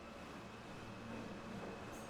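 A train carriage begins to pull away as a sound effect in a spoken ghost story, a low steady rumble of rolling wagons at moderate distance, faint overall with a slight rise partway through and no speech.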